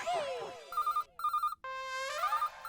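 A mobile phone ringtone plays, its bright electronic melody repeating in short phrases, loud and close, with a brief voice at the start.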